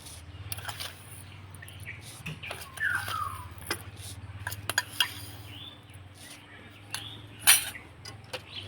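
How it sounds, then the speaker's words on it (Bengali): A spoon stirs sugar into milk in a bowl for homemade ice cream, giving scattered light clinks and scrapes of metal against the dish over a steady low hum, with one sharper clink near the end. "চিনিটাকে আমি দুধের সঙ্গে গুলিয়ে নেব"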